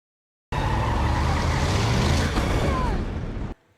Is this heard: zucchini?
no